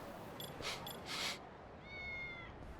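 A cat meows in the video game Lost Judgment, giving one short faint meow at about two seconds over steady background ambience, with a few brief clicks or taps just before it.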